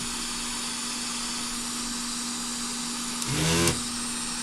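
A desoldering vacuum pump fires once with a short, sharp suction burst while working on a Beoplay P6 Bluetooth speaker circuit board, heard over a steady hum in a quiet room.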